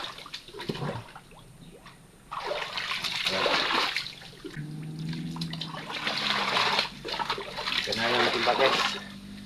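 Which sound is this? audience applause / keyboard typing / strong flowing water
strong flowing water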